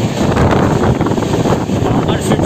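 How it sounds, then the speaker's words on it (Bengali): Howrah–Bolpur Viswabharati Fast Passenger train running at around 70 km/h, a steady loud broadband rumble and rush with wind buffeting and no distinct clacks, continuous throughout. "ইতিমধ্যে ট্রেন চলছে, এখন মোটামুটি অ্যাভারেজে 70-75 স্পিডে চলছে"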